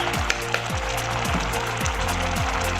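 Spicy sauce sizzling in a pan with chicken, a close and steady fry hiss over a repeating low electronic hum pattern; no talking.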